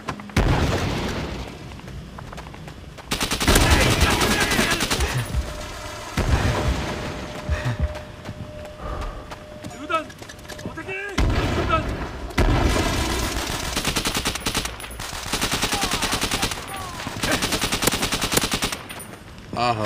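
A grenade blast and rapid gunfire ring out in a competitive video game scrimmage, with heavy bursts of automatic fire and booming explosions alternating with brief quieter gaps.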